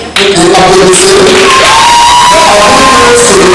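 An audience at a Congolese theatre cheers and shouts loudly in a dense, continuous crowd roar with some scattered clapping, voices rising and falling throughout.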